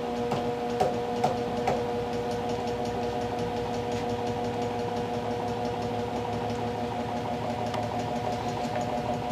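A demonstration generator system's motor starting and then running, a steady mechanical hum with a constant tone and a few light ticks near the start, moderately loud and continuous with no voices.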